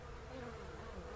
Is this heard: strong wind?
no